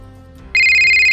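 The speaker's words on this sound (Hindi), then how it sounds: "मेरा एक फोन आ रहा है" A phone ringtone cuts in abruptly halfway through, a loud, steady electronic tone that follows a quiet background hum.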